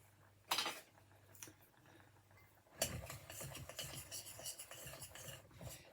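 Oat and ginger cookie dough with chopped stem ginger being mixed by hand in a bowl, giving soft scraping and clinking stir sounds that grow busier and louder after a short pause, close up with no talking.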